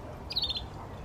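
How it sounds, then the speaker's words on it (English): Birds in a park chirp in a short, quick burst of high chirps that stops abruptly, faint over outdoor background noise. "Birds just flew off."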